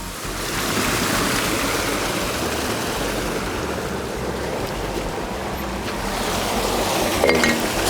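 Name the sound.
water cascading through hatchery troughs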